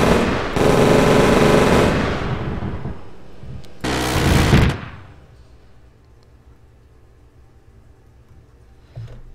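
A rapid burst of weapon fire strikes a Pelican dropship in the Halo mod Operation Trebuchet, a loud sustained automatic volley, a brief pause, then a second short burst fading into quiet rumble.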